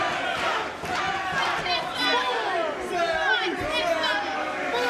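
A wrestling crowd in Dallas chants and roars for Tessa Blanchard, a loud, dense wall of voices in an arena with rhythmic shouting swells.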